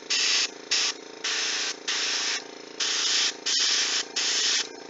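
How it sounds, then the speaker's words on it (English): Aerosol spray paint hisses onto a Guild Ball miniature in seven even, close bursts of about half a second each, with short pauses between, over a steady low background hum. "now let's go ahead and spray this in"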